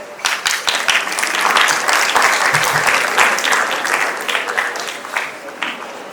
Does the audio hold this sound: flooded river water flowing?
no